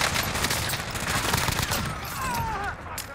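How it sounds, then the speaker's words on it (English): Sniper and other gunfire in an online shooter match, a dense burst of overlapping shots under continuous game noise, with brief whistling tones near the end. "I got sniped from behind."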